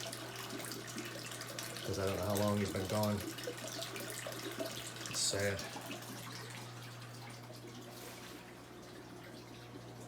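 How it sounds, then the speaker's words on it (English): A tap runs steadily into a fish tank during a large aquarium water change, a soft continuous hiss over a low electrical hum, while someone speaks briefly over it. "So now I gotta do a monster water change on this thing,"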